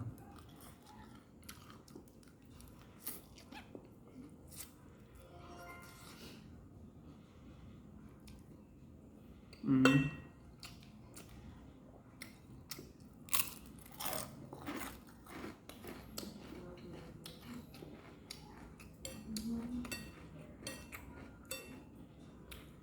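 Crunchy chips are bitten and chewed up close during a late-night eating session, with repeated loud crunches and moist chewing sounds and no talking.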